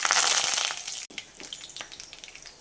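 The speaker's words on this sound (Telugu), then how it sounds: "ఆవాలు చిట్టుపట్లాడుతున్నాయి" Mustard seeds splutter in hot oil for a brinjal curry. A strong frying hiss fades after about a second into scattered sharp crackles and pops.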